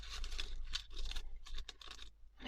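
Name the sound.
scissors cutting paper bag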